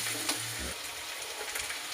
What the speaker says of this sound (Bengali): দেখো আলুগুলো এখন ভাজা হচ্ছে